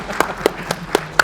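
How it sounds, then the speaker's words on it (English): A few separate hand claps sound at a project management talk, sharp and evenly spaced, about five in just over a second, with no crowd swell behind them. "Let's give her a round of applause for being our first."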